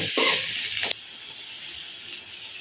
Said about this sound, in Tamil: இப்போ நம்ம தக்காளி ஆட் பண்ணிக்கலாம். தக்காளி நல்லா வெந்து வதங்கி வரட்டுங்க.